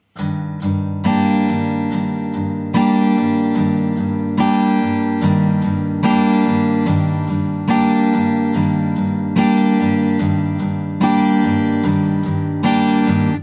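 Strummed acoustic guitar with a capo playing a steady four-bar intro on a single repeated chord, bright and close, with regular rhythmic strokes and no voices.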